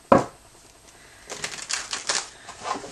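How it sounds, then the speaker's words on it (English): A deck of playing cards given a quick shuffle, a sharp snap at the start followed by a rapid riffling flutter of cards, close and fairly loud. "I want to give a good shuffle."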